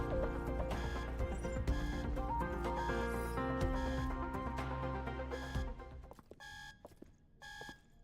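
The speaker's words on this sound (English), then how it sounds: "what's with the alarm going off?" Alarm in the video game Punishing: Gray Raven, a repeating electronic beeping over game music that cuts out, leaving isolated beeps at the end.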